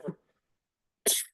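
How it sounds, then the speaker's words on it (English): A man coughs twice during a radio podcast. The first cough is short and muffled, and after a second of silence a louder, sharper cough follows, both close to the microphone. "pardon me again for the cough."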